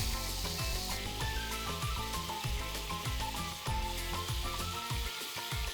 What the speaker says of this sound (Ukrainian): Ну що ж, м'ясо смажиться, картопелька запікається